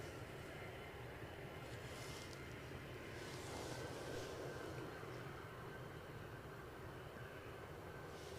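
EasyJet airliner at Edinburgh airport, its engines a steady, broad roar that holds fairly level throughout, distant and continuous with no talking.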